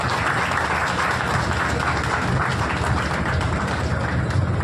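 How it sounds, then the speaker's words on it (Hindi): Audience at a university event claps loudly and continuously, a dense, steady wave of applause from a large crowd with no pauses. "जोरदार ताली"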